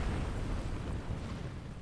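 A deep, rumbling rocket explosion in Kerbal Space Program roars continuously, low and heavy, filling the whole moment without any voices.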